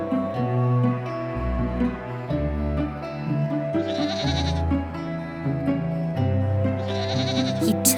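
Cartoon goats bleating in a children's story about a wolf, several bleats rising over a busy musical backing, with brighter cries near the middle and the end.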